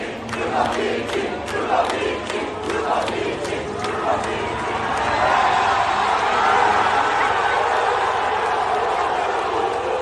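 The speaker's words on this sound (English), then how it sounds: "the crowd started chanting the name of the Aston Martin reserve driver, Felipe Drugovich" A large Formula 1 race crowd chants the name of Aston Martin reserve driver Felipe Drugovich, rhythmic repeated shouts at first, then swelling into a sustained roar of many voices at a distance.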